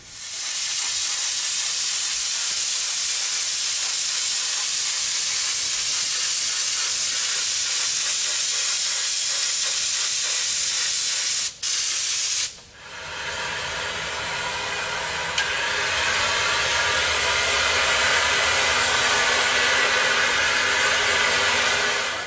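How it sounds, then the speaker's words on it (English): A heat gun blows steadily to stretch black suede vinyl over custom Focal tweeter pods. Its loud, even roaring hiss runs almost the whole time, with a brief drop and a shift in tone partway through before it carries on. "I also have the heat gun because I'm going to have to stretch the vinyl this time"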